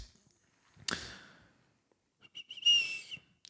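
A breathy exhale is followed by a thin, high whistling tone riding on the breath, close and faint, as air passes through a nose into a microphone.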